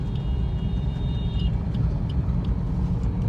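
A car driving steadily along a road in second gear, with a continuous low engine and road rumble throughout and no talking.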